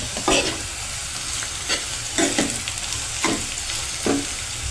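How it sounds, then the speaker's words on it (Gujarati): Okra with chili being stirred in a frying pan, a continuous close sizzle broken by about five regular scraping strokes of the spoon against the pan, no voices. "હવે તેને સારી રીતે હલાવીને મિક્સ કરી લેવાનું।"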